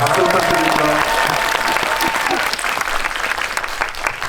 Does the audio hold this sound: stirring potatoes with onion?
no